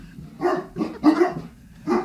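Dog-like barking played by a voice assistant's Jurassic Bark skill as a coyote bark: four loud, close yelping barks at uneven intervals, with quiet gaps between them.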